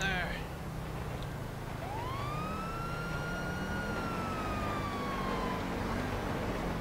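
A police car siren wails in GTA V with the LSPD:FR mod, one long rising and falling wail that sounds close and steady over constant engine and road noise.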